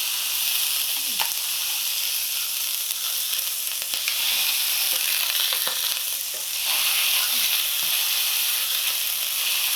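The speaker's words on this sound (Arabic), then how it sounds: "بنحط اللحمة دغري على المقلاية" Burger patties sizzle in a dry frying pan with no oil, cooking in their own fat, giving a steady loud hiss and crackle with a few soft clinks of handling throughout.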